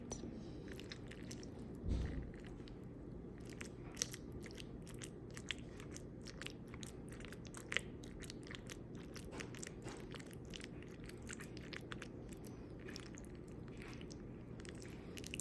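Meatballs and mushrooms with baked beans are chewed close up, producing soft, wet, repeated bites and squishy mouth sounds at an irregular pace, with no talking.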